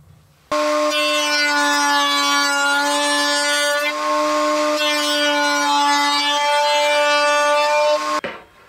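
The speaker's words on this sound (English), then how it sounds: "I'm going to route, just creeping up on it, several passes in order to get our tenon cut" A router runs steadily for several seconds while cutting a 3/8-inch rabbet to form a tenon in a wooden board, giving a loud, sustained, close-up whine that starts and stops abruptly.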